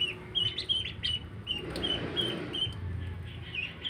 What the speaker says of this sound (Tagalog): ayan ang itik-itik sa lababo.